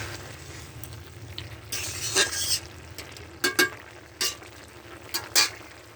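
Cumin seeds and garam masala paste fry in a pan, a soft continuous sizzle broken by several crisp scraping strokes and clinks from a stirring utensil.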